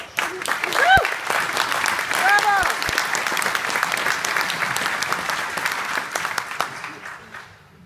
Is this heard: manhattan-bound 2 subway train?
no